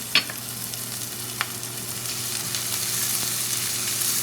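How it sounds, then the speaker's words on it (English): Onions sizzle in a little oil in a pan, a steady soft crackle with a couple of sharp clicks near the start, close and fairly quiet, with no talking. "all what's going on here is onions with a little oil"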